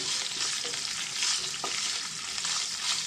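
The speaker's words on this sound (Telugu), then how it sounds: "ఆయిల్ అయితే వేడైంది కదండి ఇప్పుడు దీంట్లో మనం కొంచెం కరివేపాకు శనగపప్పు జీలకర్ర ఎండుమిర్చి వెల్లుల్లిపాయి బాగా ఫ్రై అవ్వాలండి" Curry leaves, chana dal, cumin, dry chillies and garlic fry in hot oil for coconut chutney, giving a steady loud sizzle with stirring scrapes and no voice.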